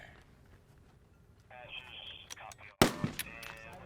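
A single sharp rifle shot cracks loudly at an NRA mid-range 600-yard match, preceded by faint background radio-like tones and followed by a brief ringing tail.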